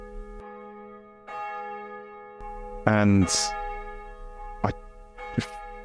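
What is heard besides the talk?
church bells ringing in the distance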